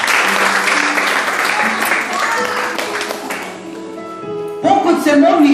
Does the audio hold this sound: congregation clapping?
yes